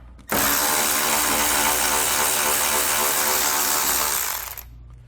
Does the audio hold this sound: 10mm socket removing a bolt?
yes